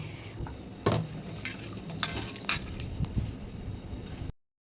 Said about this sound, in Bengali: এখানে আলুকে পাতলা পাতলা করে কেটে দিয়ে দিচ্ছি